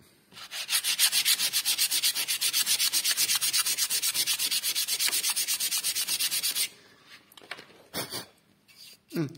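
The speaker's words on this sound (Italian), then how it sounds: "qua l'ho lisciato con questo stucco, ora va carteggiato, vediamo" Rough wood patched with smoothed paste-type filler being sanded by hand: steady rapid back-and-forth rubbing strokes, close and fairly loud for about seven seconds, then stopping, followed by a few scattered knocks and handling noises.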